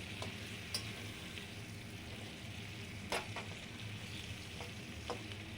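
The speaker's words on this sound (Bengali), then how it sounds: "মাংসটা একটু ভাজা ভাজা হয়ে এলে" Meat fries in a pot for home-style biryani with a faint, steady sizzle and a few soft clicks and pops.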